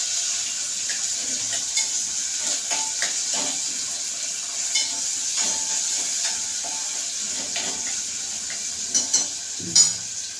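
Onion frying in a pot for soyabean rice gives a steady, hissing sizzle throughout, with occasional light scrapes and taps of stirring close by.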